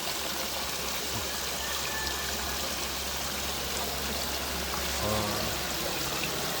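A waterfall flows steadily outdoors, a constant broadband rush of falling and splashing water that stays even and fairly loud throughout, with no voices.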